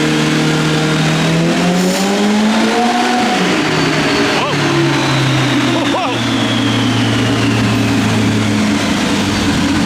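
A turbocharged Ibexx Turbo Pro R snowmobile engine runs loud and steady on a load-adjustable dyno, its drone sliding up and down in pitch while people talk over it.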